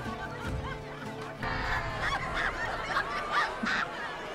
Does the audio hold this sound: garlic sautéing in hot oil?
no